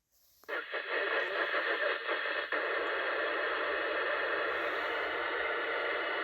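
Two-way radio static bursts on after a short quiet moment and holds as a steady hiss with a faint garbled undertone, fairly quiet and continuous.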